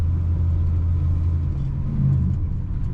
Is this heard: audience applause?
no